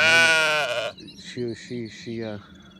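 A sheep bleats loudly and close at first, a long wavering cry, followed by a run of three or four shorter bleats from sheep in a group, with no talk over them.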